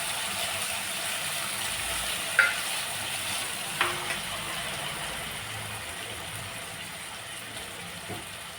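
Chopped onion and tomato are stirred together in a pan, giving a faint, low sizzle under a steady hiss. A few sharp clicks of the spoon against the pan stand out, and no one speaks.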